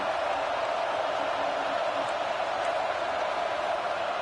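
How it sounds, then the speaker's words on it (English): A dense stadium crowd roars steadily in an NCAA 26 college football video game matchup between the Gators and LSU Tigers, a constant, unbroken wash of cheering noise. "Listen to the crowd energy here in the early going."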